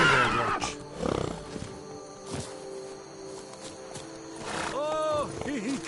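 Roach the horse in a video game whinnies, a rising wavering neigh near the end after scattered hoof and movement sounds, with a voice speaking early on.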